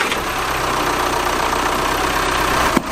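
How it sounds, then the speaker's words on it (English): Diesel engine of a 2014 VW Crafter van idling steadily after an oil change, a constant close rumble with no talk over it. "You need to close everything up, start the engine,"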